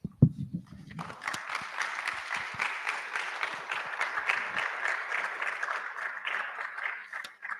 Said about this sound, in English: I think we can encourage him with some more round of applause.